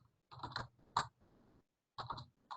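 Keys being typed on a computer keyboard, heard as quiet bursts of clicking in short runs with brief pauses between them.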